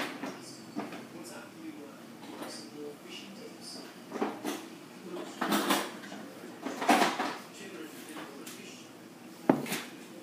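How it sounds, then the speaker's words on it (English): Oats being stirred into a stiff homemade dog treat dough in a bowl, soft scraping and knocking of a utensil against the bowl in irregular bursts, fairly close and quiet. "now we will be mixing this up"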